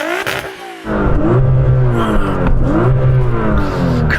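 A tuned 1000hp Nissan R35 GT-R drag car engine revs hard, climbing in repeated loud surges with a rough, sustained roar close by, no talk over it.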